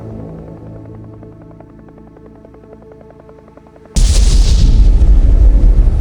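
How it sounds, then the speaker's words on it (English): A nuclear nova blast on a white dwarf's surface is rendered as a loud, sudden booming explosion that abruptly cuts off a low droning hum and then roars on as a sustained rumble. "at some point a powerful nuclear explosion occurs on the white dwarf's surface"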